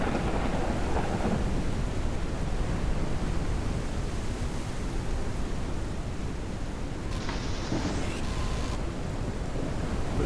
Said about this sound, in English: Storm's not quite as loud in here.